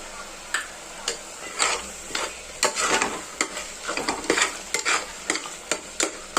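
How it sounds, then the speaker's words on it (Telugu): A spoon stirs chicken curry seasoned with turmeric in a pan, giving repeated scraping and clinking strokes at an uneven rhythm over a soft sizzle, close and moderately loud with no talk. "ఇట్లా కలుపుకున్నానండి బాగా."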